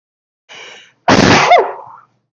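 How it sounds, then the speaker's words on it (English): A single loud sneeze bursts out right after a short, softer intake of breath, close to the microphone and with no talk around it. "I got a sneeze coming on."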